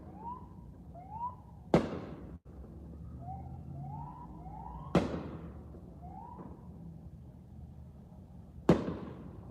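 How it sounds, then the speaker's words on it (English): A paramedics' ambulance siren down the street, faint wailing rises in the distance, broken by three sharp loud firecracker bangs nearby, with no talk. "That's the paramedics down the street."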